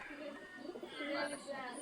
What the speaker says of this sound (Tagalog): Pakita natin sa inyo yung Taiwan bird na pares niya